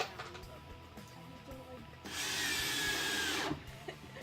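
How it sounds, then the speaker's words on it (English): A power drill drives screws into wood during a man cave build, one sustained whir of about a second and a half standing out loudly over quieter workshop sounds. "Let me get a couple of screws in here."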